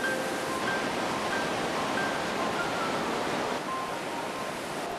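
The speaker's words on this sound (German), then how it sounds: "Tief unten tobt das Wasser." River water rages far below in the Liechtensteinklamm gorge, a steady broadband roar of rushing water echoing between rock walls, with faint high whistling tones drifting over it and no break.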